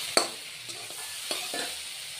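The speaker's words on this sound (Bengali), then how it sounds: "লঙ্কা বাটা, কাঁচা লঙ্কা বাটা দিয়ে দিচ্ছি বন্ধুরা, দিয়ে এবার আরো একটু কষে নেব।" Mustard fish curry masala with green chilli paste stir-fried in a pan: a soft continuous sizzle broken by a few sharp spatula scrapes and stir strokes, close and without talk.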